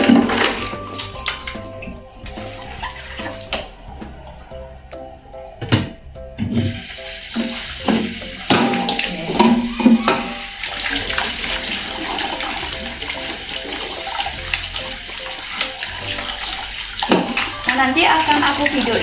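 Running tap water splashes while a baby bottle and feeding teat are rinsed, close and fairly loud, with bursts of spray and clatter and a voice talking over it.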